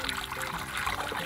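Blended rice water poured through a strainer into a bowl for homemade agua de arroz, a steady close trickle and splash of liquid running without pause.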